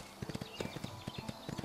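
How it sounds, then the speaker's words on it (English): Horse hooves in the Windstorm game clip-clop in a quick, irregular rhythm, fairly faint and steady, with no voices over them. "Oh, it's a horse."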